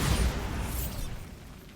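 A Bombarda spell explosion in Hogwarts Legacy, one loud low boom at the start that fades into a rumbling decay.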